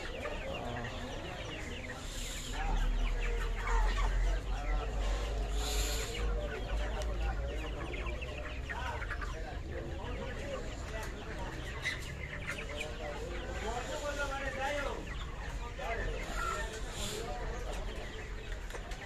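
Chickens cluck and crow at a farm where fresh chicken is being bought, continuous fowl noise heard under steady conversation among people throughout.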